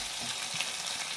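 Fish sizzles gently in a pan over low heat, a brief, soft, even hiss with no voices.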